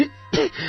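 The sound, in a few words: person coughing, something stuck in throat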